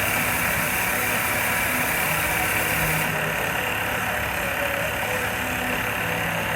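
A small CNC mill cuts a saddle dry, without coolant, taking a light pass at slow feed, making a steady loud mechanical drone and grind that continues unbroken.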